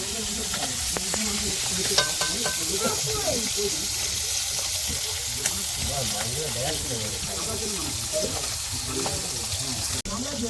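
Fish frying in a pan near the Sundarbans, a steady close sizzle and crackle that runs throughout with stirring clinks, while voices talk faintly under it.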